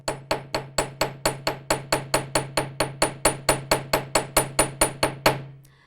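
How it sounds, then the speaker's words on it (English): Steady, evenly spaced ball peen hammer taps texturing metal for jewelry, about four per second, crisp and close with ringing decay, continuing for several seconds. "Using the other end of your hammer, the ball peen, I'm going to lightly hammer again."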